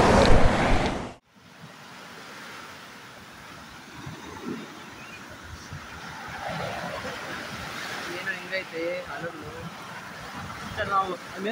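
Sea waves wash onto a beach at Pondicherry in a steady rushing surge, with wind buffeting the microphone and voices chatting after an abrupt, louder opening second.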